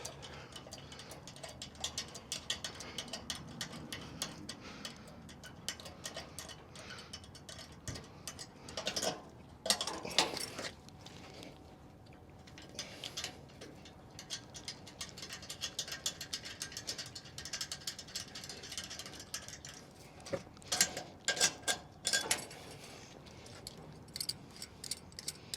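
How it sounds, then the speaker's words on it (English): Ratchet mechanism on a Kendon trailer hitch clicking and clacking as the trailer is disconnected, irregular metallic ticks and rattles close by with a few louder bursts, no voices. "we're going to disconnect the trailer from the hitch"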